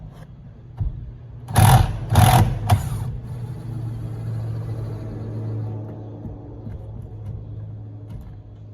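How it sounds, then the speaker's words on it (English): An impact wrench on an F250 intercooler loosens an 11mm nut in two or three short, loud buzzing bursts, followed by a low, steady hum. "this one right here on our intercooler is going to be just another 11mm nut that we need to loosen up with the impact"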